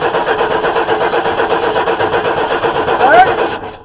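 A 1994 Chevy S-10 pickup, parked for 16 years and getting no fuel, cranks on its starter for several seconds in a steady rhythmic chug without catching, loud and close, ending with a brief whine as cranking stops.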